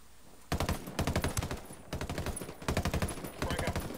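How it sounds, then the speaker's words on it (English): Sustained bursts of rapid automatic gunfire from a PvP shooter game, loud and close, in several long volleys separated by brief pauses. "I'm under heavy fire."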